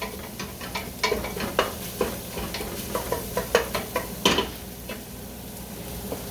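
Meatballs fry in a hot pan, a steady sizzle punctuated by a rapid series of spatula taps and scrapes, close and fairly quiet with no talking.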